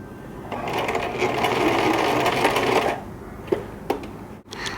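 A household sewing machine runs a steady, loud stitching burst for about two and a half seconds, then stops, followed by a few sharp clicks as the presser foot is lifted and the fabric is turned.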